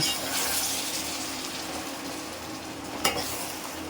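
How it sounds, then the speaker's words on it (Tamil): Prawns and vegetables for a curry with drumstick, brinjal and potato sizzle steadily in a pan, a soft continuous frying hiss with one sharp stirring knock near the end. "அதுக்குள்ளே காய்கறி நல்லா வதங்கட்டும்"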